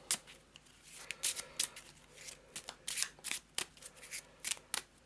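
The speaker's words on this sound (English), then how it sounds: "We'll give it a shuffle." A deck of cards for the Eldritch Horror board game is shuffled by hand, giving quick, soft riffling and snapping bursts in an irregular rhythm, faint and close.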